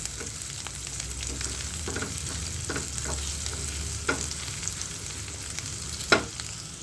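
Steady sizzling of ginger and garlic frying in a pan over high flame, with occasional scraping clinks of a utensil stirring.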